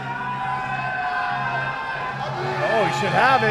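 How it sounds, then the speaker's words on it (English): Spectators at a powerlifting world championship cheer from their seats, a sustained crowd roar swelling toward the end with whoops rising above it, while a commentator speaks over the noise. "The Iranian crowd literally on their feet cheering."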